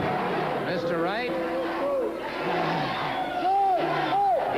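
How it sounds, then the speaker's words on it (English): Rowdy studio audience shouting and yelling over one another in a continuous loud din, with raised voices rising and falling throughout. "These people out here will not sit down and keep their mouths shut long enough."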